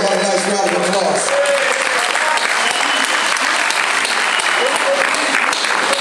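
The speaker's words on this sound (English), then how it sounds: "How about a nice round of applause?" A live audience bursts into loud, dense applause for a drummer being introduced at a music event; the clapping stays full and steady throughout, with a low musical tone briefly underneath at the start.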